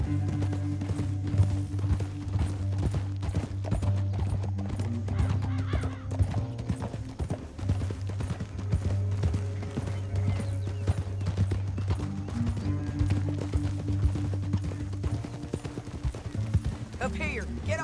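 Horse hooves clip-clopping at a steady pace in the Red Dead Redemption 2 video game, running continuously under a game music score with occasional speech from characters.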